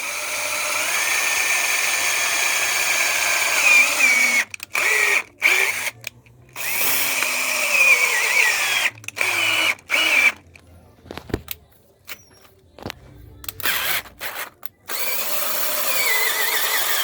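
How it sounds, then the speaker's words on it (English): A power drill fitted with a 1/4 inch bit bores into a golf cart battery, whining loudly in bursts that stop and start several times, with short silent gaps between runs. "Get you a drill with a 1/4 inch drill bit."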